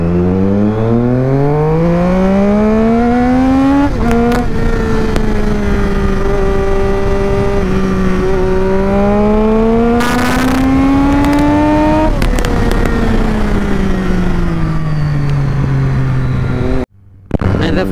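A Triumph Street Triple motorcycle rides along a street with a loud, close engine note that climbs and falls through the gears in long revving sweeps, ending in a brief cut.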